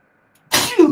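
A single close sneeze bursts out abruptly after near silence, a sharp broadband burst with a brief voiced tail, alone with no talk.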